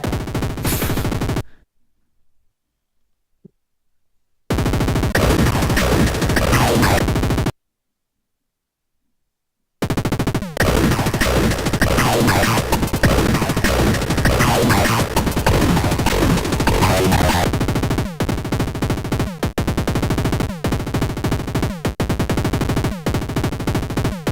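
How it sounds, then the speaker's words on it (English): Machine gun sound effect in a live LSDJ chiptune performance, harsh dense bursts of rapid-fire crackle broken by two sudden silent gaps, then a long sustained stretch of loud noisy fire with sharp periodic hits. "Machine gun experience."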